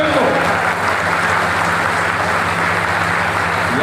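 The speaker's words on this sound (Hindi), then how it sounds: "एक बार जोरदार ताली की गड़गड़ाहट" Crowd applause at a political rally welcoming a nomination, loud and steady throughout, with faint voices and a low hum mixed in beneath the clapping.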